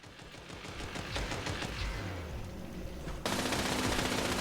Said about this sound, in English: Only got 8 shots on this shotgun, too.